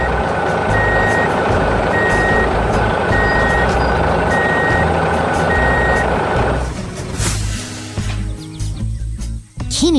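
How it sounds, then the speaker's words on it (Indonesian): A green truck in a 3D construction animation reverses with a loud, evenly spaced series of beeps over a rumbling engine, then the engine noise shifts and fades as it pulls away. "Setelah tugas selesai, truk hijau itu melaju pergi dengan teratur."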